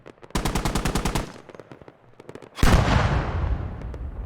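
Tank ammo rack explosion in a desert battle video game between British and Chinese vehicles: a rapid burst of sharp gunfire-like cracks, then a short lull, then a loud broadband blast with a long rumbling tail.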